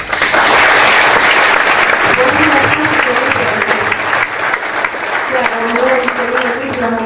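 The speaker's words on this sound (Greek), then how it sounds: "θέλω ένα πολύ μεγάλο χειροκρότημα" A loud, close crowd at a Greek European election campaign event claps steadily for a candidate's campaign collaborators, with a voice faintly audible under the dense applause.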